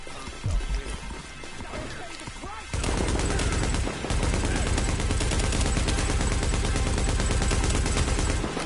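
Gunfire in the video game The Division, where sparse sounds and muffled speech give way to a sustained, dense stretch of rapid shots and crashing noise.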